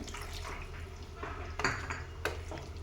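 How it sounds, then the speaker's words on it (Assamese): Water poured from a bowl into a pan of frying chicken and carrot curry, a soft splash and a few clinks of utensil against the pan over a low steady background hum. "ইয়াতে এতিয়া মই অলপ পানী ব্যৱহাৰ কৰিম"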